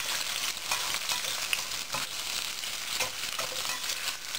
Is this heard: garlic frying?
yes